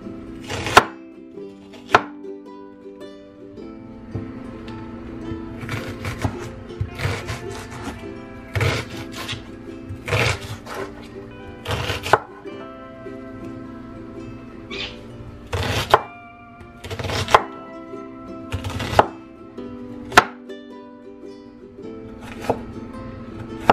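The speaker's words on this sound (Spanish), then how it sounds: "Hoy voy a cortar la mitad de una cebolla en pedacitos chiquitos también." Half an onion is chopped into small pieces with a knife on a cutting board, giving crisp, close knocks in short irregular bursts separated by brief pauses, with a faint hum beneath and no talking.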